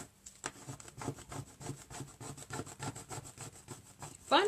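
Small hand scraper dragged repeatedly across vinyl in quick, even back-and-forth strokes, close and fairly quiet, a rhythmic raspy scratching that ends with a sharper squeak.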